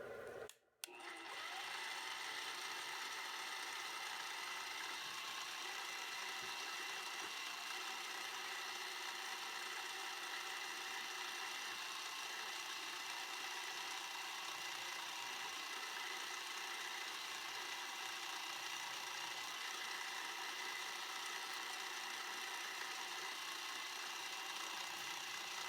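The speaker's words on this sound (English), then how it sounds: "I just wanted something that's going to be solid underneath it, so when I drill through it here. So let me go ahead and drill." A drill bores holes through G10 sheet for stainless knife washers, giving a steady, close, high whine that runs on without a break after a brief knock at the start.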